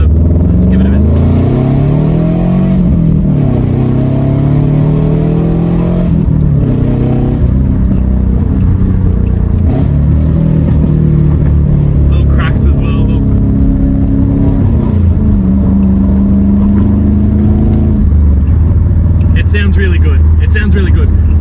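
A 2001 Subaru Liberty Gen 3 sedan's engine revs as heard from inside the cabin, rising and falling in pitch through several loud pulls, with a steady road and drivetrain drone underneath.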